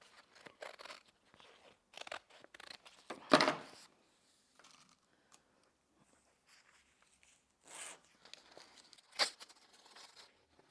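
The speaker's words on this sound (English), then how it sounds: "I'm just trimming this off" Scissors snip through fabric and bonding web in quick, quiet cuts close by, sporadic crunchy bursts scattered between pauses.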